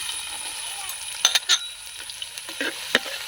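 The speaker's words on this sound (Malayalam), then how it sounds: "നമ്മുടെ വെളിച്ചെണ്ണ അങ്ങനെ ചൂടായിട്ടാ നമുക്ക് ഇനി ഒരു സവാള കുനുകുനായിരിക്കും ഇട്ട് കൊടുക്കാം" Finely chopped onion fries in hot coconut oil, a soft steady sizzle broken by a few sharp clinks and scrapes of stirring near the middle and end of the passage.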